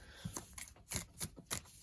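Playing cards are shuffled by hand, a quick series of about six crisp riffling bursts and soft slaps in an uneven rhythm, close to the microphone and fairly quiet, with no talking.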